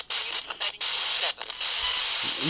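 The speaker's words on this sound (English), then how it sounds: "the voices are coming out through the white noise in many occasions" A Radio Shack 12-470 spirit box radio sweeps through steady, loud white-noise hiss, cut by several brief dropouts and chopped bursts as it scans channels.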